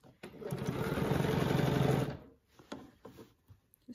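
A sewing machine runs in one rapid, close burst of needle strokes for under two seconds during free-motion quilting with a ruler, then stops, leaving a few light clicks and handling sounds.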